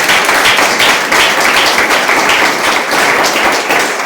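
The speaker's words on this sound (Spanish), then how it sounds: "Denle un aplauso al Rey" Loud, sustained applause from a church congregation honoring the King, dense continuous clapping filling the whole stretch at even strength.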